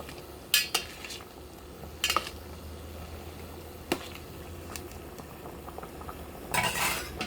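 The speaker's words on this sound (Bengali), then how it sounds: "মশলা দেওয়ার পর ভালোভাবে মাংসের সাথে মিশিয়ে নিচ্ছে।" Meat being stirred with spices in a pot while cooking with potatoes: a steady low simmering bed under occasional sharp clinks and scrapes of a utensil against the pot, spaced a few seconds apart, close and moderately quiet.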